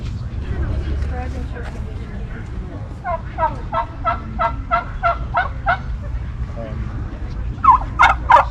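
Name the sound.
turkeys gobbling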